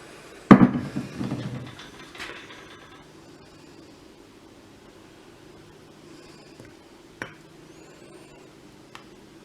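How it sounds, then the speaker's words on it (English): Chasing hammers pound sheet metal resting on malleable chaser's pitch during repoussé work: a quick cluster of close, sharp strikes at the start, then a few isolated faint taps over a quiet background. "Pitch holds and supports the metal while I pound on it with hammers"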